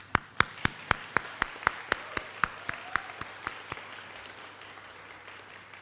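A single pair of hands claps about fifteen times in a steady rhythm at a graduation ceremony, sharp and fairly close, before stopping into quiet room tone.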